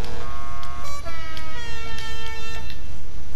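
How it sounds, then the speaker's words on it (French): A festive Christmas motorcycle horn in GTA 5 Online, played on a Sanchez dirt bike, sounding as a loud, close run of bright tonal toots that step between pitches over about three seconds, with no talking. "on a reçu des klaxons de Noël les gars"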